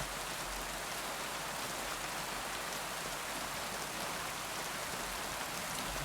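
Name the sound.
rain in video game Kingdom Come Deliverance 2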